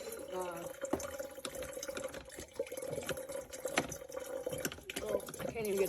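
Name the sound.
Breville BDC450BSS drip coffee maker dripping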